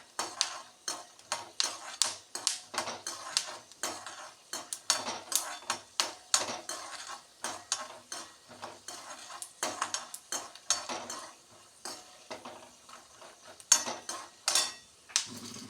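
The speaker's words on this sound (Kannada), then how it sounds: "ಹಾಗೆ ಇಲ್ಲಿ ಕಡಲೆ ಬೀಜ ಹುರಿತಾ ಇದೆ" Peanuts are dry-roasted in a pan and stirred with a spoon, making quick, rhythmic scraping and rattling strokes. They come in close, regular bursts, with nuts skittering against the metal and no talking.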